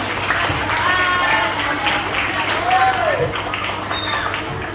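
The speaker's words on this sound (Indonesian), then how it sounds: "tepuk tangan dong buat Kak Eril" Audience applause at a student ambassador roadshow event in Banten, a dense, continuous wash of clapping from a crowd with people talking and calling out faintly underneath.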